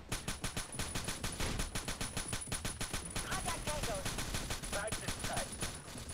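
Rapid, steady automatic gunfire in the video game Rainbow Six: Shadow Vanguard, a loud continuous rattle of evenly spaced shots, with faint game sounds mixed in.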